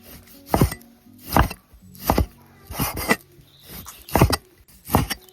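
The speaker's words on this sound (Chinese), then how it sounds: "肉直接切片" Knife slicing fatty and lean pork on a cutting board in a farmhouse kitchen, six firm, evenly spaced cuts about a second apart, close and clear with no talking.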